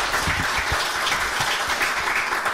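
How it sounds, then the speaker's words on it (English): Audience at a live cabaret night in Glasgow breaks into a dense, sustained round of applause, steady and loud throughout with no talking over it. "can we just give another massive round of applause for accommodating us?"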